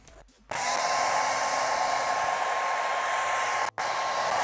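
A hair dryer blows steadily and loud at close range, drying paint on a Masters of the Universe Snake Mountain toy, a constant whirring rush that starts abruptly, cuts out briefly, then resumes.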